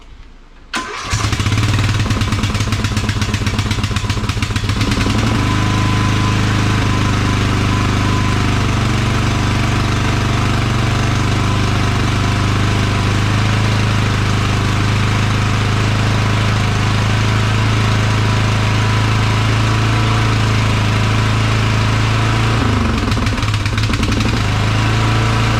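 A Craftsman LT1000 lawn tractor engine cranks and catches about a second in, then runs at a steady, loud, close idle with a constant mechanical drone for the rest of the time, with no voices.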